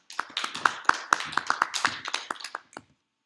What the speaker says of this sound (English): Can we give clap of praise for the Lord?